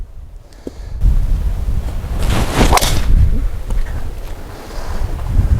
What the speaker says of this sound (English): people can hear this whoosh that I'm hearing at the top